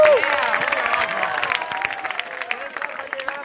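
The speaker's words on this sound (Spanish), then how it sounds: "Un aplauso a todos los que lavaron platos" Applause breaks out at a church campfire gathering, a burst of clapping and cheering from a group that gradually thins out, with voices underneath.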